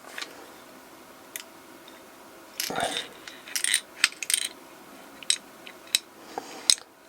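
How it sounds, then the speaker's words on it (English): Loose rollers inside a Monkey bike clutch rattle and drop in a series of sharp, bright metallic clicks and ticks, close and sparse at first, then clustered irregularly over several seconds in a quiet room. "you can hear some rollers dropping around in there"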